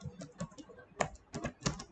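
Java code being typed on a computer keyboard: a rapid, uneven patter of close key clicks with a few sharper strikes, and no voices.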